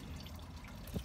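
Antifreeze drains from the cooling system drain of a 2007 International 4300 truck, a steady close-up trickle of liquid with a few louder drips and splashes toward the end.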